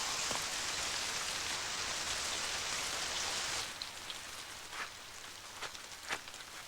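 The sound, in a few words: rain falling in an animated cartoon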